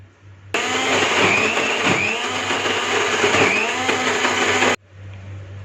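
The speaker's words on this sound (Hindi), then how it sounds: "आधे मिनट के लिए हाई स्पीड पे चला देंगे।" A blender switches on abruptly and whirs loudly at high speed for about four seconds, blending chicken mince, its pitch wavering slightly before it cuts off.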